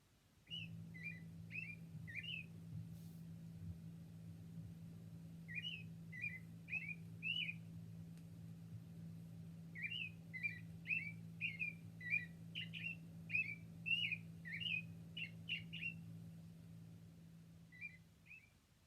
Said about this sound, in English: now we're going to listen to the robin. And he makes a whistling sound.